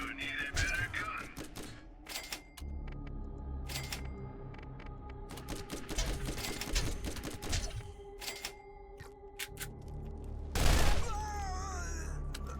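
Rapid bursts of repeater pistol fire from a Borderlands shootout, sharp cracks clustered in quick volleys over a busy game soundscape with music and effects.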